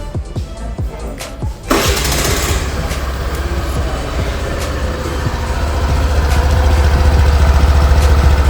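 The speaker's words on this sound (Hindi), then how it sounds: "तो कुछ इस तरह की आपको एग्जॉस्ट नोट से आवाज़ सुनाई देगी।" A Suzuki Burgman Street scooter engine cranks and catches, then settles into a steady, close, low idle with a rumbling exhaust note that grows slightly louder toward the end.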